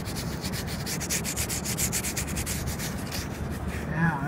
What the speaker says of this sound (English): This is like a pencil rubbing right here. Do a little more rubbing.